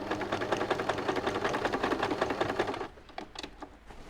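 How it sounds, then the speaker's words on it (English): A sewing machine stitches a pocket seam in a fast, steady mechanical whir of close needle strokes for nearly three seconds, then stops, leaving a few faint clicks and rustles. "We're going to sew the bottom as well."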